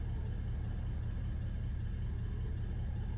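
Front-wheel-drive car in a tornado research and rescue video game, held on the handbrake while the accelerator is pressed for a burnout: a steady droning engine rumble at constant pitch, moderate and unbroken, with no talk.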